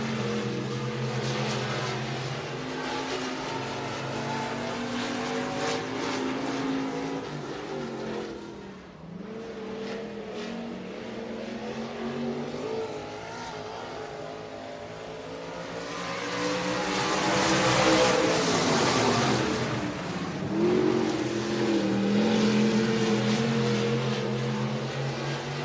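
Stock cars race around Buena Vista Raceway, their engines droning and rising in pitch as they pass close by, with one loud surge of engine noise building toward the end and no voices heard.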